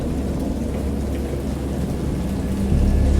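Thunder rumbles low and heavy under a steady wash of rain, swelling louder toward the end, with no voices.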